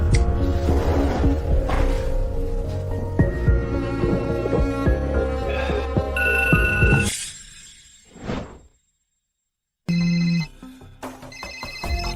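A telephone rings at midnight, a repeated electronic ringtone pattern heard loud and close over other noise, then cutting off briefly to silence before ringing resumes.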